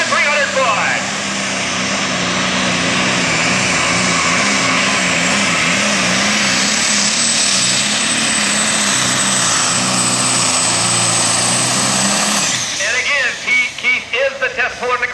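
A John Deere diesel tractor in the NTPA Grand National Super Stock diesel class at a 2003 Fort Recovery tractor pull roars steadily down the track, loud and sustained with a wavering engine tone, before cutting off near the end as an announcer talks.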